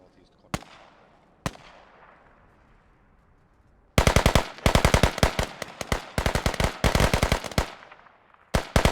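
Gunfire in a Battlefield-style online match: two isolated sharp shots, then dense rapid automatic bursts with short gaps, loud and close, a final burst at the end.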